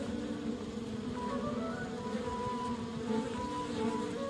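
Swarming bees drone steadily in the Kelvin and the Infamous Machine video game, a continuous buzzing hum that stays level and close throughout with no speech over it.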